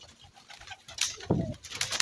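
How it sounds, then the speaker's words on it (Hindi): Fighter pigeons in Taunsa Sharif, Pakistan, give brief coos with a bit of wing flutter, moderately close, rising in short bursts toward the end with no talking. "फाइटर कबूतर इन लड़े भिड़िया है"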